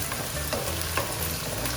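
Shallots sizzle steadily in hot coconut oil in a pan for a crab roast, a continuous crackling fry with light stirring, close and fairly quiet, no talking.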